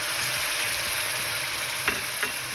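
Chicken manchurian frying in a pan with soy sauce and other sauces, a dense, steady sizzle filling the scene, with a couple of faint utensil taps near the end and no voices.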